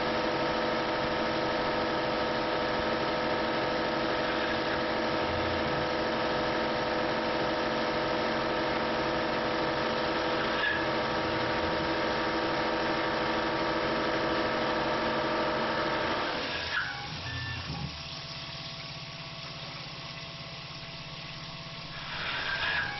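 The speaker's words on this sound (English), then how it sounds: "countersink running at 800 RPM and 5 IPM" A Tormach PCNC 1100 CNC mill countersinks at 800 RPM and 5 IPM, giving a steady, loud machine drone with tonal whine and slight chatter for about sixteen seconds before the cut ends and a quieter hum remains.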